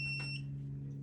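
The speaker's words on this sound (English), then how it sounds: "we're gonna hear a beeping as I give this box power" A dash box in a Meyers Manx VW dune buggy powers up from a cigarette-lighter socket and gives off a steady high electronic beep, held over a constant low electrical hum.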